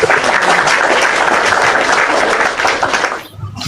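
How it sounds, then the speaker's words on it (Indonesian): Loud, close applause from a crowd at an interfaith dialogue gathering, a dense continuous roar of clapping that holds steady for three seconds before briefly dropping off and picking up again. "Beri tepuk tangan dong"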